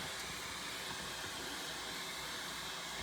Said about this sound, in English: Now it's white noise through all 4 channels.